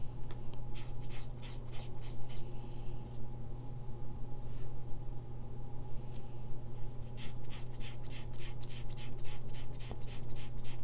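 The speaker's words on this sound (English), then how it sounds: "the two ends need a bit more rubbing" Quilling paper strip ends burnished by rubbing to form an on-edge uppercase letter Q, vortex technique: repeated soft scratchy strokes in quick bursts, close up, over a steady low hum, no talk.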